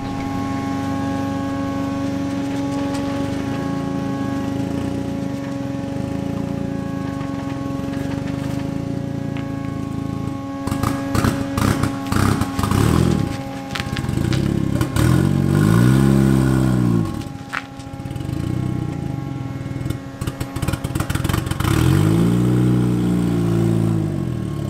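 A turbocharged go-kart engine running with no exhaust idles with a steady drone, then clatters and revs loudly in several rising bursts as it drives off, close and without talk.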